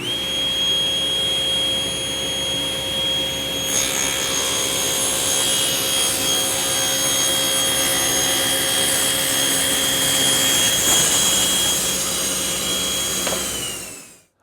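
A power saw cuts wood panels for a bath vanity to exact length. A loud, continuous whining roar runs throughout, its tone shifting slightly as the blade bites in, then it winds down at the very end.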